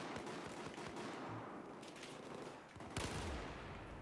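Bursts of automatic gunfire in the game Battlefield 4, rapid distant-sounding shots over a steady noisy battle backdrop, with a louder burst near the end.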